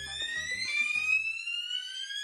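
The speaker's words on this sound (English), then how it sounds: "Getting blasted out of there with the fire alarm that wasn't actually a fire alarm at 6 in the morning" A fire alarm sounds at six in the morning, a loud, piercing electronic tone that holds steadily throughout, with some faint low knocking early on.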